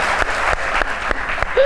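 A studio audience at a Pakistani comedy talk show claps briefly, a dense burst of applause with a few louder hand strikes, ending as a voice begins.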